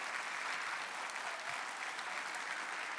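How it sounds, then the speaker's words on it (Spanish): A church congregation applauds the Lord during a sermon, a dense, even wash of many hands clapping at once, steady throughout with no voices standing out. "Denle un aplauso fuerte al Señor"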